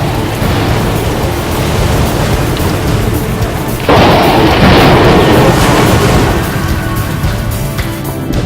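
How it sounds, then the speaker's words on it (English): Heavy rain pours down in a steady, loud roar while thunder rumbles and surges partway through, with no voices. "The rain's pounding is thunderous."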